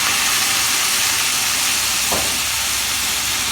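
Garlic and asparagus sizzle loudly in olive oil in a pan as white wine is added, giving a steady close hiss with a brief burst partway through.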